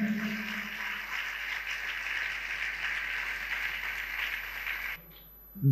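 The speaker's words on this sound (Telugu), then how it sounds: "చప్పట్లు కొట్టి దేవుడు మహిమపరచండి గట్టిగా" A church congregation claps loudly and steadily in unison to glorify God, a dense even patter of many hands that stops abruptly near the end.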